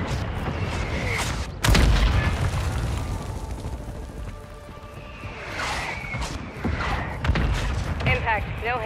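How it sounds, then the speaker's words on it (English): A mortar strike in a video game lands as a sharp, loud boom followed by a rumbling decay, with further distant bursts and rattling effects later under spoken radio-style game voices. "Requesting fire mission. Copy. Mortar strike inbound now."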